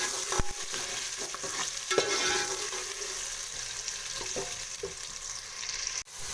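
Onions frying in hot oil for chana dal give a steady, close sizzle with a few sharp clicks and spatters, and a clunk near the end.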